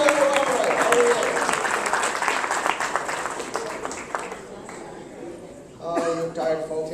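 A fundraising program audience applauds a man coming up to the stage, with dense, fairly loud clapping that gradually thins out and then briefly picks up again near the end.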